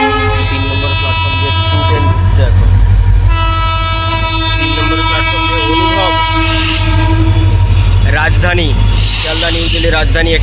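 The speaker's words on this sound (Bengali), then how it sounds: "বুঝতেই পারছি ডিজেল লোকোমোটিভ কারণ সাউন্ডটাও শুনে বোঝা যাচ্ছে যে ডিজেল লোকোমোটিভ" A diesel locomotive hauls the Sealdah–New Delhi Rajdhani Express past the platform at Dum Dum Junction, its engine droning loud and close with a steady low rumble, and a sustained horn blares over it. A voice speaks underneath.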